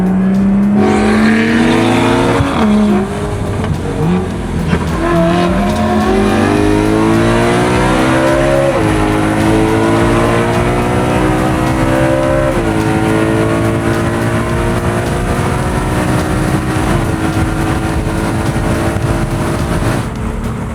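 A BMW 335i with an N55 engine revs hard and climbs through rising harmonics as it accelerates, with brief dips at gear changes. It is loud and continuous, with no talking.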